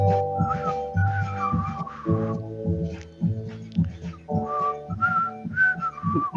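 A person whistles a wavering, halting tune, with soft breathy notes that start and stop, near and fairly loud, with no talk over it.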